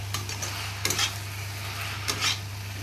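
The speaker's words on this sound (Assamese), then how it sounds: "তাৰপিছত হালধি, আৰু এতিয়া ধুনীয়াকৈ গোটেইখিনি লৰাই দিম" Salt and turmeric being stirred through food in a cooking pan, two brief scraping strokes rising over a low steady hum with a faint sizzle underneath.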